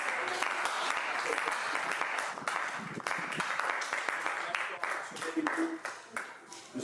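A church congregation claps and cheers for the Lord, dense steady applause filling the room and then thinning toward the end, with voices mixed in beneath the clapping.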